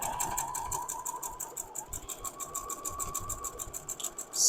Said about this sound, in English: I'm stitching on both sides of the line that I just drew